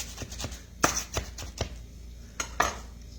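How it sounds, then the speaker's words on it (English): A knife chops chives on a cutting board in irregular, sharp taps, several louder strikes standing out, close and clear with no talking. "what I'm doing is I'm just cutting the chives"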